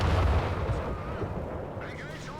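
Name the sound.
bombing run and artillery fire in a video game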